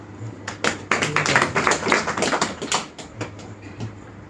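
A group claps hands in a quick burst of sharp, irregular claps that builds, holds for about two seconds, then thins out to a few scattered claps.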